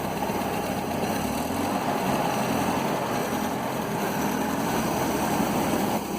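A 1967 Land Rover Series 2a 109 engine idles steadily nearby, a constant low rumble with no changes in speed.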